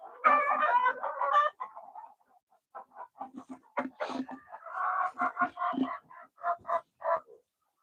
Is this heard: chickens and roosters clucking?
yes